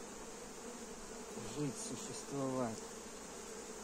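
Honey bees hum steadily at a beehive during a July hive expansion, a close, continuous buzz with someone speaking briefly over it.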